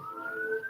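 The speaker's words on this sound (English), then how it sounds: "pardon the sirens." Emergency vehicle sirens sound faintly from the bottom of a hill, a single distant wailing tone that rises slowly over a quiet background.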